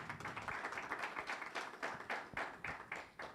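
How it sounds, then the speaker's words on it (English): A forum audience claps for its panelists, a moderate and fairly quiet patter of separate claps in an uneven rhythm, with no talking over it. "Please, I request you a round of applause for"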